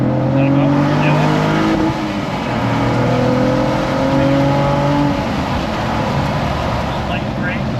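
A Cadillac CT4-V Blackwing on a race track rises through revs, drops on braking and downshifts, then pulls again, with an engine drone steady in the cabin while a driving coach talks over it.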